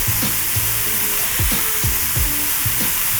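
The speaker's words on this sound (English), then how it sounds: "You want to see the smoke, hear the sizzle." Beef spread out in a hot wok sizzles and crackles loudly and continuously, with occasional low knocks and scrapes from stirring, close up and with no talking.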